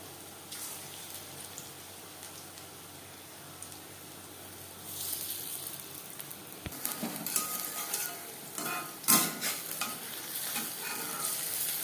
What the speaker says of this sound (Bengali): আমি কম তেলে ভাজছি আপনারা চাইলে ডিপ ফ্রাইও করতে পারেন